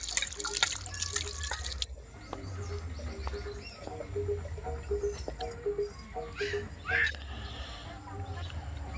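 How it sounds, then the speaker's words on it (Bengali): Cut clams being washed in water, with steady dripping and splashing, faint bird chirps in the background and a low hum underneath. "ঝিনুকগুলো কাটা হয়ে গেছে, ভালো করে ধুয়ে নিচ্ছি।"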